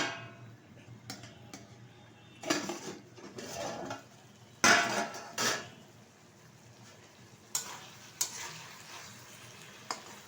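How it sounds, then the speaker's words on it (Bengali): A lid lifted off a cooking pot of simmering okra and potato curry, scattered metallic clinks and scrapes between soft bursts of steam and faint sizzling, close by with no talking. "ঢাকনাটা তুলে দিচ্ছি।"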